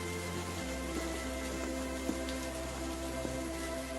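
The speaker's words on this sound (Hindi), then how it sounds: "इस झमाझम बरसात में" Heavy monsoon rain pours steadily onto a village street, a dense continuous hiss with a few faint drop taps, loud and unbroken throughout.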